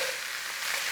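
Bell peppers hitting hot oil in a beef stir fry, a brief, loud, close burst of bright sizzling.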